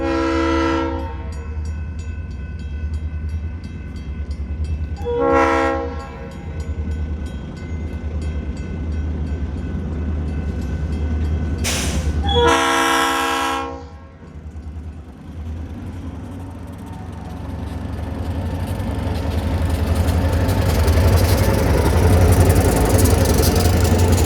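A Vermont Railway freight train pulls out of New Haven, its horn blaring in several loud, close blasts over a steady low engine rumble that grows as the train rolls away.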